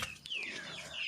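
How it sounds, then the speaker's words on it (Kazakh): Young 57-day-old chickens give a soft, faint chirping cluck, a short high gliding call heard quietly over a low background. "Мынау 57 күндік балапандар"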